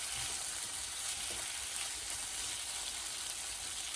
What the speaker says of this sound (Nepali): यो मासुमा मसला पनि राम्ररी फ्राई भइ पनि रहेको छ